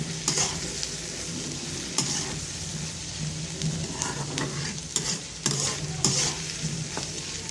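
Dried fish fries with onions in oil, giving a continuous crackling sizzle close by, broken by repeated scrapes and clinks of a spatula stirring the pan.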